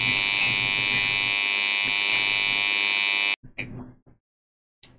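A loud, steady electric buzzer drones continuously for over three seconds, then cuts off abruptly, leaving a few brief faint knocks and rustles.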